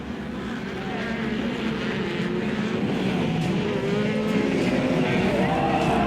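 Production 1000cc UTVs race off-road in a regional series event, several engines roaring together at steady high revs with shifting pitch, loud and continuous throughout.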